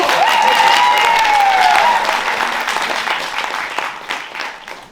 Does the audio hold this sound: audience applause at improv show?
yes